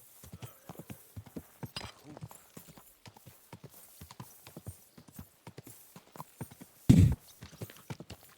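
Slow, even clip-clop of a walking horse in the Kingdom Come: Deliverance II video game, hoofbeats close and regular throughout, broken briefly by a loud snort or whinny.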